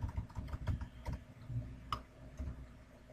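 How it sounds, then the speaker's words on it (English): Quiet, rapid typing on a computer keyboard as a message is entered into an email form, with light irregular key clicks close to the microphone and no voices. "And then you want to type in a message."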